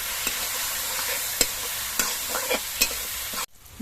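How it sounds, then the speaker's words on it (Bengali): Dried chili powder, turmeric and cumin stirred and fried in a pan, giving a bright hissing sizzle broken by several crisp scrape-and-tap stirring strokes, close and alone, until the sound cuts off abruptly near the end. "এবার সব কিছু দিয়ে মশলাটা কষিয়ে নিতে হবে"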